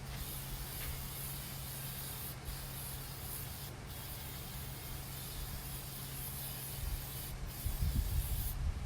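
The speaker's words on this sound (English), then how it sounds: "But I just spray the inside of it like this." A continuous hissing spray from a spray bottle aimed inside an old piece of furniture runs almost without pause, with a few brief breaks and a low background hum, growing slightly louder near the end.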